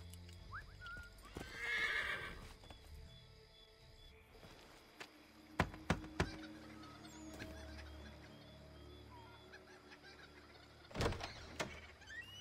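Horse hooves clip-clop in Assassin's Creed 3 with a whinny and scattered clacks and thuds, fairly quiet with gaps between sounds, game-like effects.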